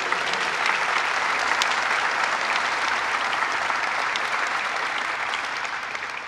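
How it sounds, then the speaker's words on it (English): Steady, dense applause from an audience at a breast cancer motorcycle ride stop in Syracuse, continuous and fairly close, tapering slightly toward the end with no talk over it. "Let's give a big round of applause, Joni Mahoney."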